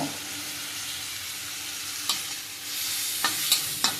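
Cumin and spices sizzle steadily in hot oil in a pan for an okra curry, a dense continuous frying hiss with a few sharp clicks of a utensil against the pan near the end; no one speaks.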